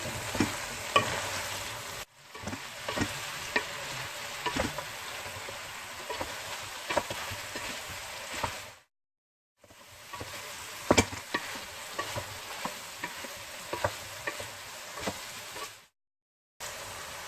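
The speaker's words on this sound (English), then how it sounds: "Now give it a stir." A spoon scrapes and stirs through a sizzling Turkish eggplant dish frying in a pan, a steady close crackle with repeated stirring knocks, cut by two brief silent gaps.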